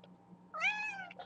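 A black cat gives a single clear meow, close and fairly quiet, over a faint low hum.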